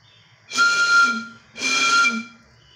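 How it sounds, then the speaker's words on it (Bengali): Air blown into a resonant tube gives two separate sustained whistling tones, each lasting about a second with a breathy hiss, loud and close, with a brief pause between them. "এবার আমি এটাকে ফু দেওয়ার চেষ্টা করছি ফু দিলে দেখো দুটো শব্দ আলাদা হবে"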